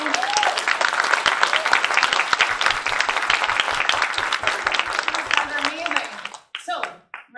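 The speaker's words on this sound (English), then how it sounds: "Let's have a round of applause for the first part of this panel." A Comic Con panel audience claps and cheers, a dense, loud burst of applause from a large indoor crowd that carries on for several seconds before tapering off sharply.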